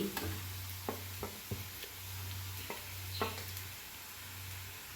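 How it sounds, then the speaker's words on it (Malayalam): Onions, chilli powder and coriander powder for a prawn roast masala are stirred in a hot pan: a soft continuous sizzle with occasional scraping spoon strokes over a low steady hum, no talking. "ഇതെല്ലാം ചേർത്ത് നന്നായി വഴറ്റേണ്ടതാണ്"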